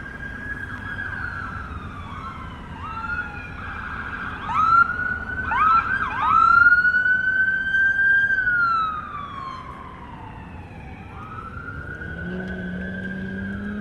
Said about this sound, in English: I hear police cars. A lot of them.